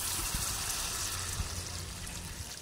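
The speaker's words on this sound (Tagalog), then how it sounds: "At lalagyan na natin siya ng tubig para totally na maluto." Water runs steadily into a cooking pot of chicken tinola, a continuous rushing trickle heard up close with no talking.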